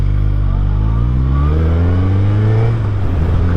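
A 2023 Suzuki Hayabusa motorcycle accelerates hard, its loud, close engine note climbing steadily in pitch without a break.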